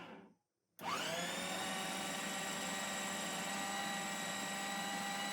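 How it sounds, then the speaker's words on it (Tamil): A food processor grinds a mutton mixture, its motor cutting in after a brief silent pause and then running as a loud, steady whirring drone with no break. "இதை வந்து நான் எல்லாத்தையுமே வந்து ஃபுட் ப்ராசஸரில் போட்டு நல்லா வந்து அரைச்சி எடுத்துக்கிறேன்"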